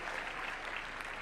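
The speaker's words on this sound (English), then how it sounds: "Give them another round of applause," An audience applauds at a national conversation launch event at KICC, Nairobi, giving a steady, dense wash of clapping that is moderately loud throughout.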